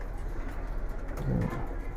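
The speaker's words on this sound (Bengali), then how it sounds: "এটা হলো আমার মাকড়া জেনারেশনের কবুতর" A Makra generation pigeon gives a single low, soft coo against a murmuring background.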